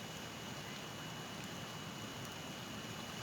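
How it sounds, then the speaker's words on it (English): Steady, dense hiss of rain falling outdoors, even and unbroken throughout, fairly quiet with no talking over it. "Here comes the rain again."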